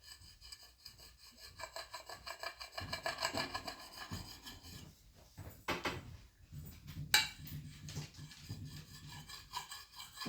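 A hand file rasps back and forth along an axe blade's bevel in a series of uneven scraping strokes. It sounds close and moderately loud, with an occasional sharp metallic clink.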